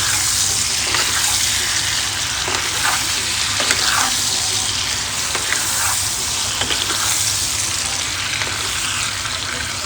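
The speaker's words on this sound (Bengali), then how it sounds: "চিকেনটা দিয়ে এটা ভালো করে মিক্স করে নেব" Fried chicken being stirred and mixed in a hot pan for chicken chilli, with a steady close sizzle and frying hiss throughout and occasional scraping knocks of the spoon.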